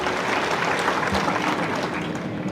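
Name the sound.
applause welcoming Jayant Patil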